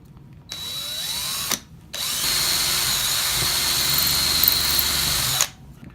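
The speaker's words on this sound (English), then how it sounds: "then we want to start with the pilot drill again" A power drill fitted with a pilot bit bores through a wooden dowel, whining loudly and steadily in two runs separated by a brief pause, close and with no talk.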